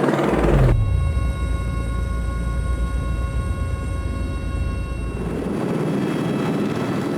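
A helicopter hovers over a mountain chasm, its rotor and engine making a steady, loud, droning whine that holds evenly before easing into a broader rumble.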